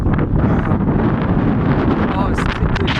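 Strong wind buffets the microphone outdoors in very windy weather, a loud steady roar with gusts throughout, and a person's voice is faintly mixed in.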